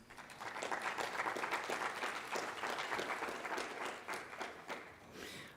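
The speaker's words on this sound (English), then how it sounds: "For them, for Fausta and Sunitha, I ask for a warm round of applause, please." A conference audience gives a warm round of applause at the closing session of an event, dense sustained clapping that fills the room, holding steady for several seconds before thinning out near the end.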